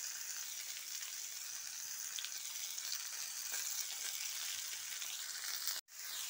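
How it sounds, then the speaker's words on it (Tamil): Tomatoes sauté with a little salt in a pan, giving an even, continuous hissing sizzle throughout, close and alone, cut briefly near the end. "தக்காளி வதக்கும்போது லைட்டா உப்பு போட்டுட்டினா சீக்கிரம் வதங்கிடுங்க"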